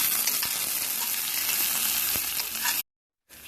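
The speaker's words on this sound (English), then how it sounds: "we're going to grill some onions" Onions fry in olive oil in a cast iron skillet on a grill, a close, steady sizzle with stirring clatter, cutting out suddenly to silence before resuming faintly.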